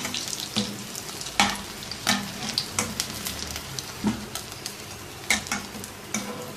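Crispy mutton chops fry in hot oil with a lively crackling sizzle, punctuated by repeated clacking strokes of a utensil stirring and turning them at irregular intervals.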